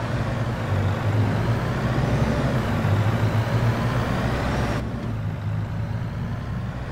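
A truck being driven in the video game Farming Simulator 22, its engine holding a steady low drone that drops slightly in level near the end, with no speech.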